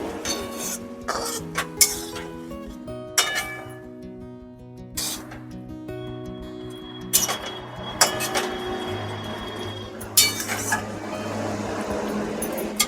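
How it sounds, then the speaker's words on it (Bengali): Fried koi fish pieces go into a Bengali oil-based fish curry and get stirred, bringing intermittent metallic clinks and scrapes of a spoon against the pan over a low simmering background, with no talking. "এবার আমি ভেজে রাখা মাছগুলোকে দিয়ে দিচ্ছি মাছগুলোকে দিয়ে একটু হালকা নাড়াচাড়া দিয়ে নেবো"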